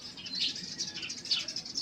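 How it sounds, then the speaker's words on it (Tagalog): Mixed birdsong in the mountains: continuous high, bright chirps and twittering from several birds at moderate distance, with a faint low cooing underneath and no voices. "makaririnig mo ang iba't ibang huni ng ibon"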